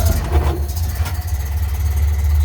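A 1929 Ford Model AA truck engine idling with a deep, steady rumble, loud and close, slight rises in revs near the start.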